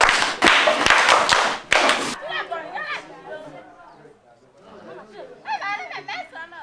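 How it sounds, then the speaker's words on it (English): Quick burst of clapping from a church group for a child who answered a question correctly, lasting about two seconds, then chatter and talking voices take over. "Clap for that person."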